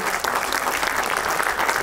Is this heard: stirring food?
no